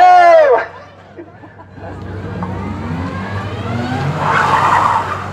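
A Nissan Micra skids through a handbrake turn at a car show, a rising tire scrub and engine roar that swells toward the end, heard from a distance after a brief shout, with crowd noise underneath.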